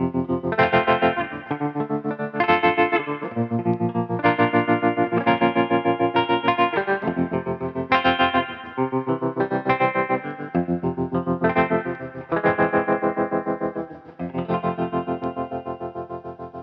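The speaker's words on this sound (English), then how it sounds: "this, the Galileo Optical Tremolo from Dophix" Electric guitar played through a Dophix Galileo Optical Tremolo pedal, loud strummed chords pulsing in a steady rhythmic volume throb, with repeated phrases and no talking.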